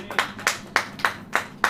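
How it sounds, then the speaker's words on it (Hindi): A church congregation claps in unison during a sermon, six sharp, evenly spaced claps in a quick steady rhythm. "ताली बजेगी कि नहीं बजेगी?"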